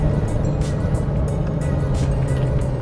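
Citroen AX with a 1300 carburettor engine revving hard from inside the car, a steady loud engine drone with rhythmic swells as the revs rise and fall.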